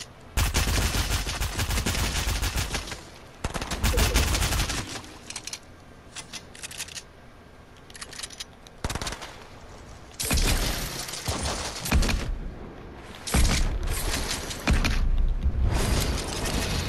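Dense bursts of video game gunfire rattle in long automatic volleys, loud and close, broken by short quieter gaps and a few isolated shots.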